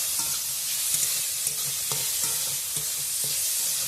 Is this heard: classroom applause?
no